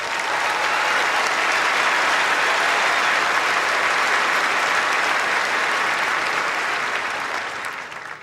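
A stadium crowd applauds after the Australian Open women's tennis final, a broad, loud roar of clapping that stays steady and even throughout and only begins to fade at the very end.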